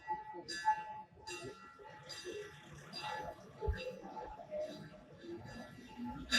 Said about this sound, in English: So listen to the sound of the bell.